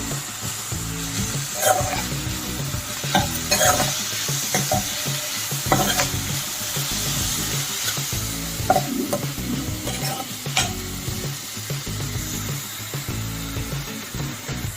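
Onions sautéing in a pan with curry leaves, a pinch of turmeric and half a spoon of salt, giving a steady loud sizzle with periodic scraping stirs and no talk.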